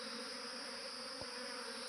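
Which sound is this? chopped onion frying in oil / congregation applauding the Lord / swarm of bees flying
swarm of bees flying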